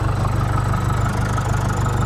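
A tractor engine runs steadily at idle during crop sowing work, a continuous low throbbing drone with an even rhythm, close and loud with no talk.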